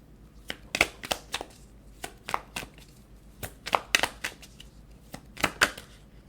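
Tarot cards are handled and drawn from a deck, giving crisp slapping and flicking clicks in irregular clusters, close and fairly loud with quiet gaps between and no talk.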